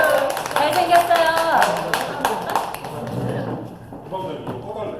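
Clapping from an audience at a New Year seminar as a marketing speaker is introduced, sharp hand claps over a lively crowd with voices calling out, fading into quieter room chatter.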